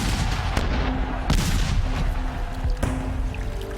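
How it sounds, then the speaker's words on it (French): Cannon fired from a colonial fortress bastion in celebration booms three times at uneven intervals, each a sharp, heavy blast over a dense, rumbling background. "fait tirer le canon en signe de réjouissance"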